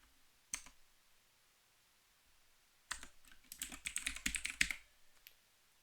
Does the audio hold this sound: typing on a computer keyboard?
yes